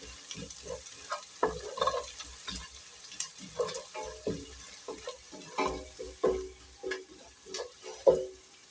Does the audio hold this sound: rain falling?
no